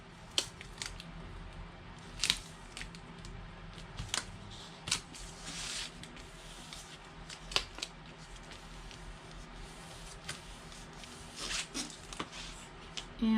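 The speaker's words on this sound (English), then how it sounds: "I'll come in with my tape, and I want to go ahead and just tape the spine piece." Tape pulled and pressed along the spine of a handmade skinny notepad: soft crinkly tearing and rustling bursts, with several sharp little peaks scattered through, fairly close and quiet.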